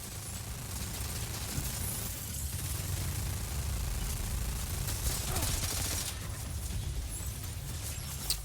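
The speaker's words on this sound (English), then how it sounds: "The Chiral cannon was such a great idea." Chiral cannon firing in Death Stranding 2, a dense, sustained barrage of rapid blasts that keeps up at a steady loud level for several seconds with no pauses.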